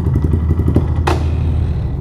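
Quad bike exhaust backfiring in a tunnel, a sharp loud bang over a steady engine idle, with earlier rapid popping pulses before it.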